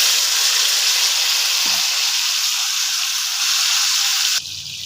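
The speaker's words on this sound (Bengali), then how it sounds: "এখন দেখো ম্যারিনেট করা মটনটাকে দিয়ে দিচ্ছি।" Marinated mutton sizzles loudly in a hot pan over fried onions, a steady bright hiss running throughout with a brief clatter midway, then dropping off sharply near the end.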